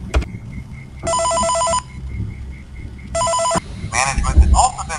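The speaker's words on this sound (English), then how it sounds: "have a listen to this phone call" An electronic phone in the video game Five Nights at Freddy's rings in two bursts of rapid trilling tones, with a faint steady beeping and background noise in between.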